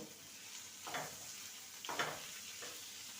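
Potatoes and carrots sizzle softly in a pan with turmeric and salt while making stuffed parathas, a low steady fry broken by a few brief scraping stirs, quiet and close.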